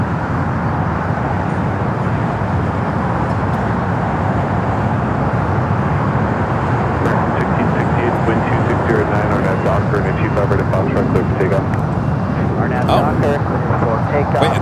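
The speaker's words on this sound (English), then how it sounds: "Next takeoff is American Airlines flight 1668" American Airlines A320 jet taking off at LAX, a loud continuous engine roar that stays steady throughout, with brief clicks and crackles toward the end.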